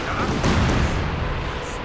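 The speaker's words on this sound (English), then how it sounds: "actually opening up for a nice close point barrage" Artillery barrage from the WWII strategy game Company of Heroes 2, a dense, continuous rumble of overlapping booms and blasts with a sharper burst near the middle, sustained loud throughout.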